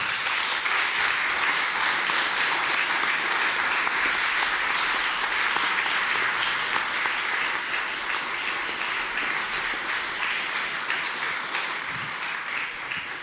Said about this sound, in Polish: Brawa, wielkie brawa dla wszystkich.